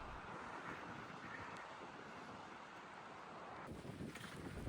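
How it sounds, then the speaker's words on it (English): Wind coming off a river at a campsite blows in a steady, muffled rush against the microphone, continuous and fairly soft, with a brief swell toward the end. "Out of nowhere, the wind starts coming off the river and it's picking up fast."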